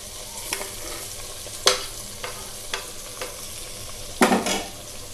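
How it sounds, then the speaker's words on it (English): Brinjals (eggplants) frying in a pot for bagara baingan, a steady soft sizzle with several sharp spatters and stirring scrapes, one louder burst near the end. "See, like this we have to fry all the brinjals."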